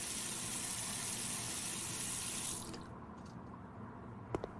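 Water running from a tap for a drink in the video game Denizen, a steady hiss of flowing water that stops abruptly after about three seconds, followed by quiet and a small click.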